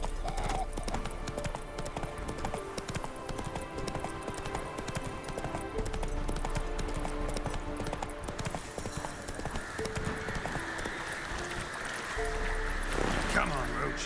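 Roach the horse gallops in The Witcher 3, hooves pounding a fast, rolling rhythm close up throughout, with game ambience and brief speech over it.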